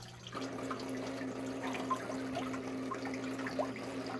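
Water washing through a mesh sifter to separate copper from debris: a soft continuous trickle and splash with faint drips, low and close, over a steady background hum.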